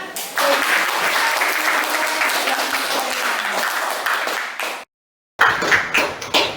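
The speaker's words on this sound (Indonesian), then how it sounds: "terima kasih dan tepuk tangan" A classroom group of teachers or students claps in a sustained, steady round of applause, cut off by a brief silence, then a few more scattered claps follow.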